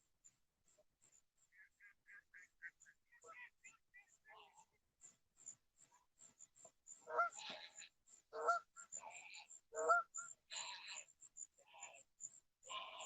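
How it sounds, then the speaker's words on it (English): Geese honk at night near water, with other wild birds such as a duck, a heron and a seagull joining in; the calls start faint and scattered, then grow into louder, overlapping honking bursts. "I heard a blue heron, a geese, a duck, and a seagull."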